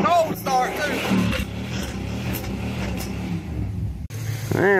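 A worn 300,000-mile Chevy 350 V8 fires up from a cold start and revs, a loud, close engine roar with a brief dip near the end before surging again, while people talk over it.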